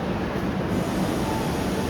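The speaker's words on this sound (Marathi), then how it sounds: "आता ट्रेन आलेली आहे" Steady low rumble and broadband rail noise of a train pulling into a station in Mumbai, continuous and fairly loud, with no clear voices.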